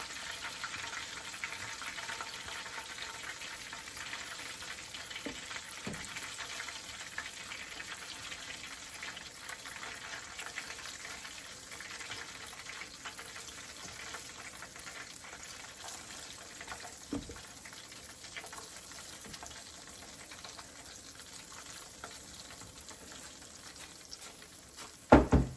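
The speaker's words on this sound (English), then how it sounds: "See the flour that's frying up in here" Flour frying in leftover grease from cooking duck wingettes in a pan, a faint, steady crackling sizzle that runs on alone, ending in a short clatter.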